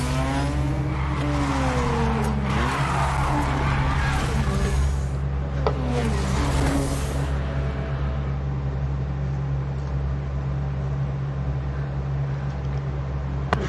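A car drifting in the Need for Speed Heat racing game, its engine rising and falling in pitch with tire squeal and skidding over a steady low background hum, continuous and fairly loud.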